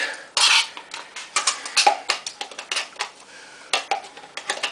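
A metal spoon scoops yogurt into a dish for a chicken-in-yogurt recipe, giving a quick run of sharp clinks and scrapes against the bowl, close and fairly loud, with no talking.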